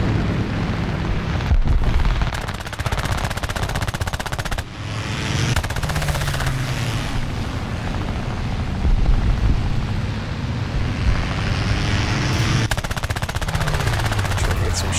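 Machine guns on a Ki-10 biplane fire in War Thunder air arcade combat, loud dense bursts of rapid gunfire over a constant engine drone, with short pauses between volleys.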